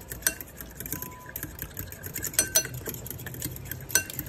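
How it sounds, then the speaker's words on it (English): Ingredients being whisked together in a bowl with oregano among them, a run of light metallic clinks and scraping taps against the bowl, quick and irregular, close but fairly quiet. "We're just gonna whisk this together just to give it a head start."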